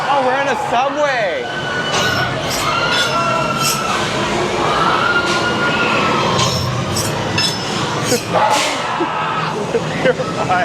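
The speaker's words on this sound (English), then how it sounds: "Oh, we're in a subway." Loud rumbling subway train effect inside a haunted house attraction, with clattering, metallic squeals and continuous mechanical roar, as visitors talk and react throughout.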